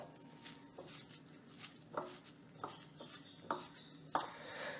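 Grated coconut, shallots and spices worked into tapioca by hand, soft wet squishing and patting with a few sharper taps, close but quiet and irregular, no speech.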